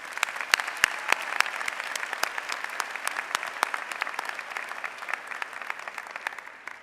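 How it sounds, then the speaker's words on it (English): A commencement audience in a large arena applauds the ceremony staff, a steady, fairly close patter of many hands with sharp individual claps standing out, continuing evenly for about seven seconds. "Let's give them a round of applause."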